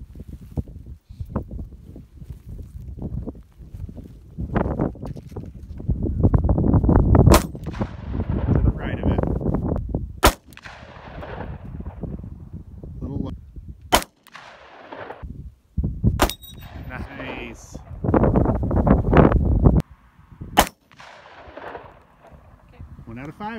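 Loud shotgun blasts at clay targets on an outdoor range, several sharp separate reports spaced seconds apart, with people talking between and around the shots.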